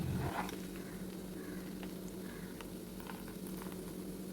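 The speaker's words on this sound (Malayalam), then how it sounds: "ഇതേ ബ്രൗൺ നിറത്തിലേക്ക് വന്നു തുടങ്ങിയിട്ടുണ്ട്. നെയ്യ് പാകമാകാറായി." Ghee simmering in a pan on a low flame as it starts to brown, a soft, steady bubbling sizzle with faint crackles, close and even throughout.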